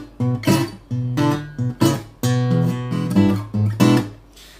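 Fingerstyle blues guitar with a thumb-picked walking bass line under plucked treble notes, played close and clear in a steady swung pulse with no talking.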